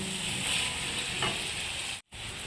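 Chopped snake gourd frying in a pan, seasoned with cumin powder and salt, giving a close, steady sizzle that runs unbroken apart from a brief gap near the end.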